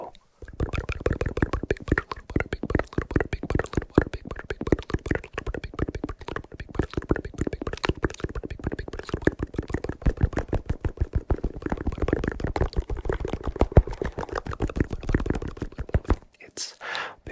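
Butter is handled up close as an ASMR trigger, giving a rapid, dense stream of sticky clicks and soft squishes that continues steadily before stopping near the end.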